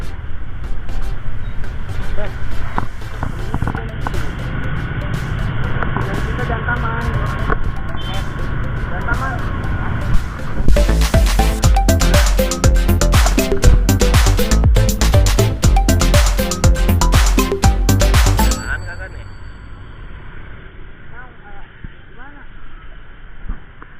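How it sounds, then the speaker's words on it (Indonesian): A night traffic jam on a crowded street: a loud, continuous rumble of engines and vehicles that swells into a dense roar midway, then drops off, with people talking nearby. "Wah, macet guys."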